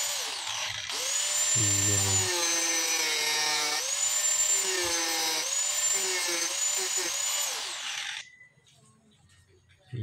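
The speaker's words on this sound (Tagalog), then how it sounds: "hindi ako sanay sa paggamit ng grinder" An angle grinder cutting into an amplifier's aluminum front panel: a loud, close, high-pitched whine that rises and dips in pitch as the disc bites, running for about eight seconds before spinning down to quiet.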